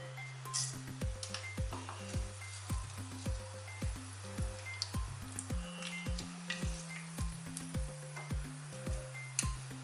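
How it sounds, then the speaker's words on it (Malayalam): Mustard seeds spluttering in about three tablespoons of hot coconut oil in a pan for a Kerala bitter gourd curry, a soft steady sizzle with light crackles and clinks under a steady electronic hum. "ഒരു 3 ടേബിൾ സ്പൂൺ എണ്ണ ഒഴിച്ചു. കടുകിട്ട് കൊടുക്കാം."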